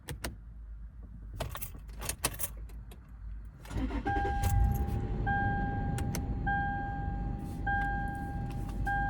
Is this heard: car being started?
yes